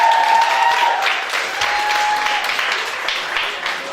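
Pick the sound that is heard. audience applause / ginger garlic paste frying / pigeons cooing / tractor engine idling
audience applause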